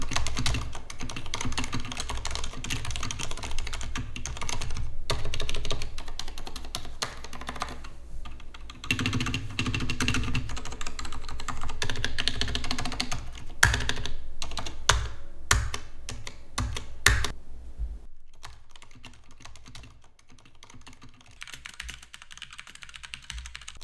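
Typing on a Leopold FC750R mechanical keyboard with scratchy switches and a ping noise, a dense run of close clicking keystrokes that thins into scattered taps near the end.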